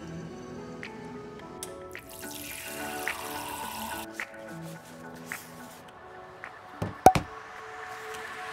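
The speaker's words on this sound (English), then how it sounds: "I usually grab a coffee and a cup of water from the office kitchen" Water running from a tap into a cup in an office kitchen, a soft steady trickle with small clinks and drips, fairly quiet under faint room hum, with a sharper knock near the end.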